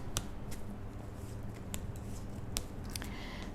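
Tarot cards shuffled by hand in a quiet room, giving soft papery rustling broken by a few sharp snaps and flicks at irregular moments, faint and without speech.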